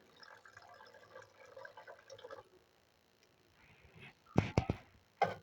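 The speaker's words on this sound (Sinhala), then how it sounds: "ඔම්ම වතුර ටිකක් එකතු කරනවා." Water is poured into a pot of dal curry as a soft, steady splash for a couple of seconds, then sharp clatters of the pot or utensils follow.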